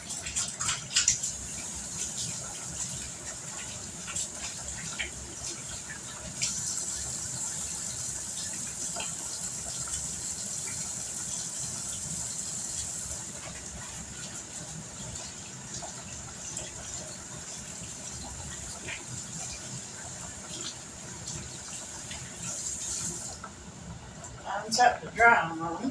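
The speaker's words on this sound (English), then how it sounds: "let me wash my hands off." A kitchen tap runs steadily as hands are washed, a soft continuous gush of water for about twenty seconds under occasional faint talk, ending with a few clatters.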